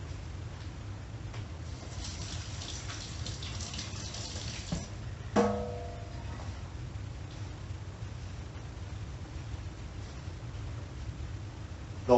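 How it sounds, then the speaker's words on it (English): A kitchen sink tap runs steadily while hands are washed before handling ground beef for meatloaf, a continuous close hiss of water with one brief clunk midway. "Let me wash my hands real quick."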